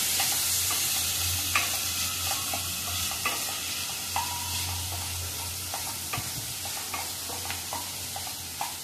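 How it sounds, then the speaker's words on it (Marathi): Onion stirred and sautéed in a pan while cooking a Maharashtrian-style bhindi (okra) dish, with a steady close sizzle and scattered scraping taps of a spoon throughout, no voices. "परतून घेऊया आणि थोडा कांदा नरम होईपर्यंत आपण त्याला शिजवून घेऊया"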